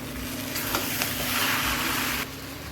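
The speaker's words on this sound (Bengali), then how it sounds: "এখন ভালো করে ফ্রাই করব।" Vegetable chowmein frying with Maggi masala in a pan, a steady close hiss of sizzling with a few stirring scrapes, no talk.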